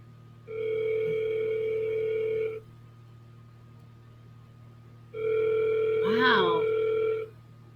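An outgoing phone call placed from a CRM rings while waiting for voicemail: two long electronic ring tones about two seconds each, separated by silence, with a voice briefly talking during the second ring.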